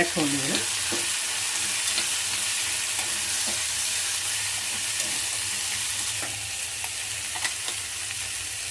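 Washed avarekalu field beans fry in a pan with a strong, continuous sizzle and occasional stirring scrapes, close and steady.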